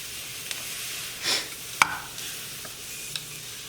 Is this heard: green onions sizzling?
yes